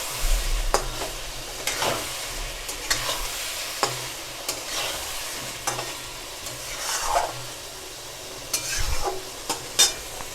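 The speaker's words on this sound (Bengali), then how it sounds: "এই পর্যায়ে আমি ভাজা কচুগুলো অ্যাড করে দিচ্ছি। এবার এর সাথে আমি কষাবো" Fried taro pieces are stir-fried in a pan for Gathi Kochur Dum, with a soft frying sizzle underneath repeated scraping stirs and occasional clunks of the spatula against the pan, unaccompanied by talk.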